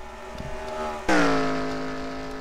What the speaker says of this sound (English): Now we got a lap car of Muhammad Hussein, who appears to may have an engine going sour, as it doesn't sound too good as they go by the camera.